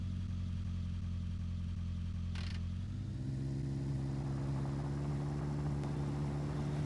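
A Volkswagen Golf Caddy's petrol engine drones steadily as the car drives, and its pitch steps up partway through as it accelerates. No voices.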